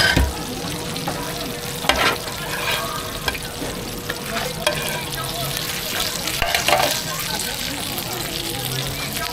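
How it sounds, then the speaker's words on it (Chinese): Beef potstickers fry in a pan at a busy Nanjing market stall, with a steady sizzle, occasional stirring and scraping, and crowd voices and talk over the top. "南京的牛肉锅贴都是把外皮煎到金黄酥脆"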